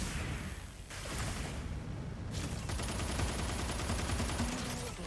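Dense gunfire from the mech combat video game Mecha Break, a steady rattle of shots with a short lull near the start, heard alone and fairly loud without voices.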